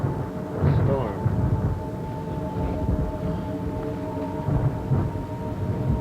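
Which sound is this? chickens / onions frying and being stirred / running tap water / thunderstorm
thunderstorm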